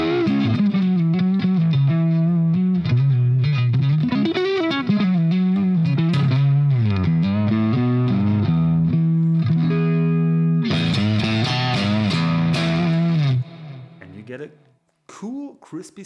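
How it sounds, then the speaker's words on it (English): Electric guitar with a single-coil pickup played through a Hughes & Kettner Black Spirit 20 amp, producing a crisp, driven tone with sustained notes and melodic runs, loud and close, ending in a few choppy stabs. "Switch to a single coil."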